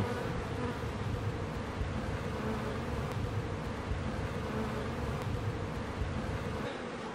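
Honeybees buzz around the entrances of backyard hives, a dense continuous hum from many insects close by, steady and unbroken throughout with no voices.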